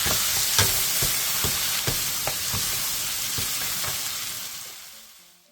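Sliced zucchini and mushrooms stir-fry in a pan with salt, pepper, sesame oil and sesame seeds, a continuous loud sizzle broken by occasional scraping stirs before fading out at the end.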